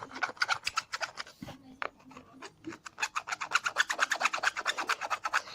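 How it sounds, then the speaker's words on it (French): A textured full-art Pokémon card rubbed close up, a rapid series of rhythmic scratchy rasping strokes, with a brief pause early, then quickening, steady strokes, no talking. "Écoutez bien le bruit de la carte."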